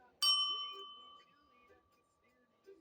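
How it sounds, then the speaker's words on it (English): A small angel bell struck once, giving a bright ding that rings on with a sustained tone and slowly fades, heard close and alone in a quiet room. "Ring my angel bell."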